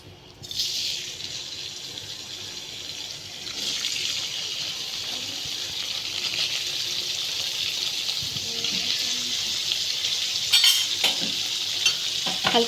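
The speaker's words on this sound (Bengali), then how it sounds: "এবার এগুলোকে আমি হালকা করে ভেজে নেব।" Paneer pieces rubbed with salt and turmeric fry lightly in a pan, giving a steady, bright hissing sizzle that swells after a few seconds and holds, with a few small pops and clatters later on.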